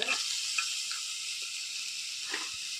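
Beans and carrot fry in a pan with a steady, even sizzle, a soft continuous hiss with a few faint stirring taps, heard alone.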